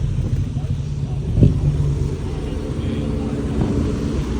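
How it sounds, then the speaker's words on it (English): A silver Ferrari Enzo pulls up at a classic car show, its engine a low rumble under steady talk, with one brief louder swell partway through. "Oh, I see a silver Enzo pulling up there."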